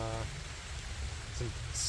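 Steady rain falling in the Allegheny National Forest on an autumn backpacking trip, a soft continuous patter of drops on leaves and gear, heard alone at low level with a brief faint tone near the start.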